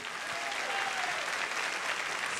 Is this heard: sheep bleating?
no